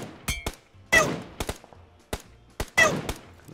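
Sharp, close PUBG gunshots scoring a headshot, fired from a tower at sea, arriving as a handful of distinct cracks and brief bursts with short decays between quieter gaps.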